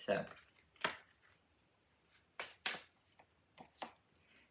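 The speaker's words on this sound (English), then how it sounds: "One more shuffle." A tarot card deck is shuffled in several quick riffling bursts with short pauses between, close and crisp, and a voice speaks a single brief word near the start.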